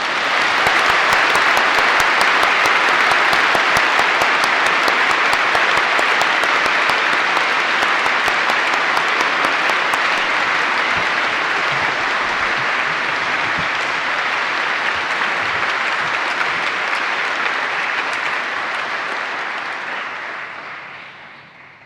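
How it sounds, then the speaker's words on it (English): Long, heartfelt round of applause from the audience at a University of the West of Scotland graduation ceremony in Paisley, steady and full for about twenty seconds before gradually fading out. "Would you please join with me in a round of heartfelt applause"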